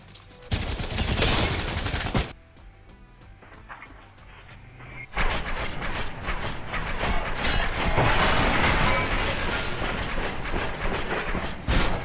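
Havoc rifle fired in a video game, dense rapid bursts of gunfire separated by a quieter lull, loud, with other game effects in the mix and no voices.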